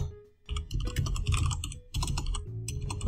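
Fast typing on a computer keyboard, dense clattering keystrokes in bursts with brief pauses, close and clear.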